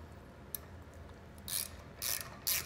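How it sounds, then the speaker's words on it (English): A 14 millimeter ratchet tightening the lower nuts of a B&W Patriot fifth wheel hitch on a 2018 Ram 2500, three quiet bursts of rapid clicking ratchet strokes near the end, no talk. "we're gonna be using a 7/32 hex up top and then a 14 millimeter ratchet on the bottom"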